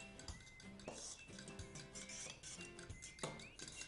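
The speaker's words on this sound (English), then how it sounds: "grab your fork and just whisk it all together quickly" A fork whisks eggs and cheese in a bowl, quick scraping and clinking strokes against the dish in a steady rhythm, faint and close.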